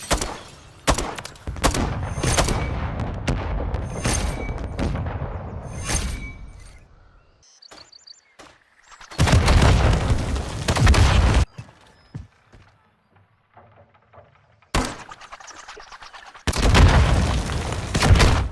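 RGL grenade launcher fire in Modern Warfare III on the Estate map: a run of loud booming shots and blasts in bursts, separated by quieter gaps with faint distant thuds, ending in another heavy volley.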